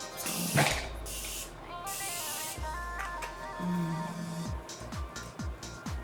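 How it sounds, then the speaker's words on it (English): A short hissing burst of makeup setting spray onto a face near the start, followed by steady background noise and a few soft clicks and rustles. "I'm gonna set my skin a little bit with the Murphy Continuous Setting Spray."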